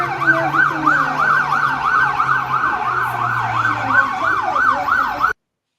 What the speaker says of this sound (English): We can hear fire service and police obviously getting there quickly.